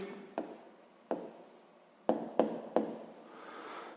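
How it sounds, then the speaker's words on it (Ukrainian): A pen writes a math answer on paper, giving a few sharp taps and short scratchy strokes spaced across a quiet room, close and fairly soft. "ну що ж, е, ми знайшли, записуємо відповідь"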